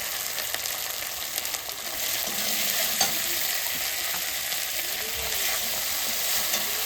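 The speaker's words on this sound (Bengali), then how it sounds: "মশলা কষানো হয়ে গেছে" Spices with salt and turmeric frying in a pan while being stirred, a continuous bright sizzle with scraping stir strokes and occasional soft knocks, close and steady with no talk.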